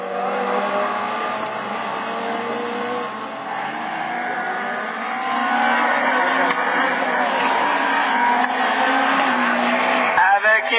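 Super 1600 rallycross race cars, among them an Audi A1, launching off the start at Lessay, a loud, continuous blend of straining, revving engines that swells midway, with commentary running over it.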